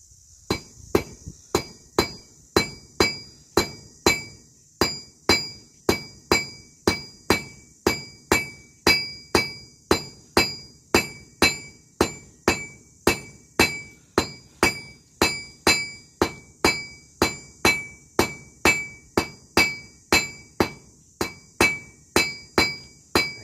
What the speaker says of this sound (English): We're just working the taper, again, at the edge of the anvil.